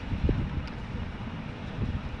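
Cool wind after scattered rain gusts steadily past the microphone during a family drive out of traffic, a continuous low rumbling buffet with no voices.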